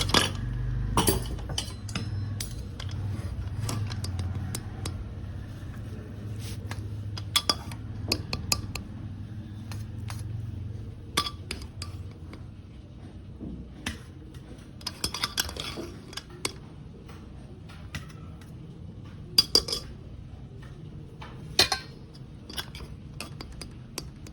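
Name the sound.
dishes and cutlery clinking while setting the table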